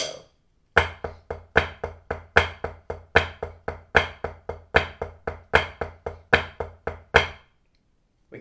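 A drum rudiment, two counts of flam accents, played as a steady repeating pattern of sharp strikes, each accent followed by lighter taps, close and clear with no talking.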